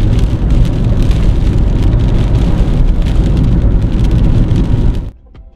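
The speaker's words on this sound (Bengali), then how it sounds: "পরিমাণে ঝড়ও শুরু হয়েছে, আবার বৃষ্টিটাও সঙ্গে দিয়েছে" Cyclone storm on a road trip from Kolkata toward Spiti Valley, heavy rain drumming hard with strong wind in a loud, dense roar that stays constant before cutting off abruptly near the end, with no voices.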